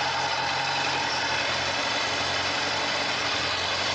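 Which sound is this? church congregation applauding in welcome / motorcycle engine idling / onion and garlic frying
motorcycle engine idling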